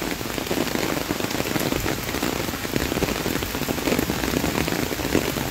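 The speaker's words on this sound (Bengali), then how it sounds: "অতিরিক্ত ভারী বৃষ্টির কারণে" Heavy rain pouring onto flooded fish ponds in a village, a dense, steady hiss of drops striking water that holds loud and constant throughout.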